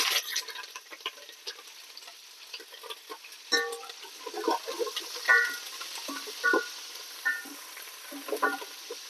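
Curry leaves dropped into hot oil for a tempering while making bottle gourd dappalam: busy crackling and spitting, close and sharp, with irregular pops in a sizzle that grows livelier partway through.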